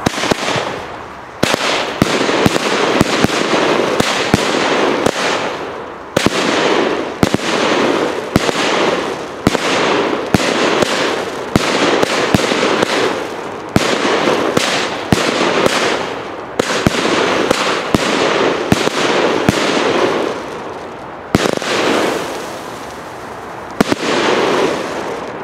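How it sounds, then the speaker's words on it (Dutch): A Special Carousel fireworks item from Zena Vuurwerk going off nearby in a long volley of loud crackling bursts and repeated bangs, with short gaps between rapid sequences. "Te koop bij Zena Vuurwerk, dames en heren. Prachtig vuurwerk, Special Carousel."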